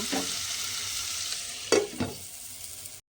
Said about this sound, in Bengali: শুধুমাত্র করলাটা দিয়ে একটু ঢাকা দিয়ে রান্না হতে দেব।